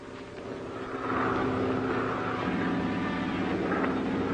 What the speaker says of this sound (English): It's the helicopter.